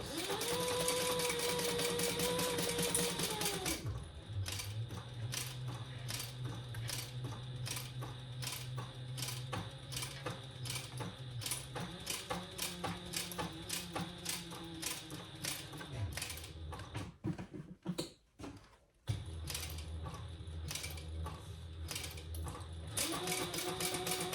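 A sewing machine stitches a seam around a crossbody sling bag, its rapid needle clatter running steadily and close. The stitching pauses and restarts in bursts, with a brief stop near the end.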